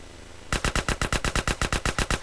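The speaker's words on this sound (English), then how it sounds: "I'm just shooting at that thing because it was pretty much screwing what I have to do in this mission." Automatic gunfire in GTA San Andreas bursts out after a short quiet moment, a loud, even rapid string of about fifteen shots.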